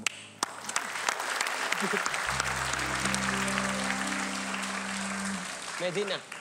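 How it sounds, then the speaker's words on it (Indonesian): Audience applause at a talk show event, a sustained wash of clapping lasting several seconds with a low musical hum rising beneath it, and a few voices briefly heard at the edges. "Tepuk tangan"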